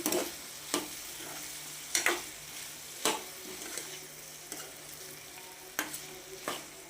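Ginger frying over a low flame in a pan for an aloo fry, a steady soft sizzle broken by several sharp scrapes of a spoon stirring it, close and alone without any voices.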